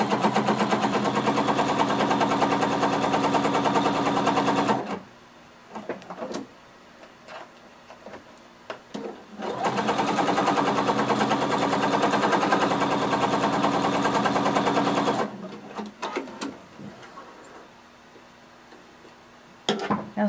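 A home sewing machine runs a gathering stitch around a jumpsuit piece in two long, steady bursts, near and loud, with quieter handling and fabric rustle in the pause between them and at the end.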